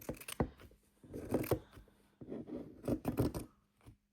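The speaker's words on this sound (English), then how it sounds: "we're just going to trim them all the way around" Scissors trim the edges of a sewn flannel bib in quick rhythmic bursts of crisp snipping and rubbing, close up, with short pauses between runs of cuts.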